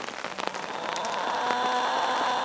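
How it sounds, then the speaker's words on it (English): Rain falls on a garden with sunflowers and newly planted gladiolus, starting as scattered drops and patters, then settling into a steady, even shower with no voices. "Pretty good timing on this rain."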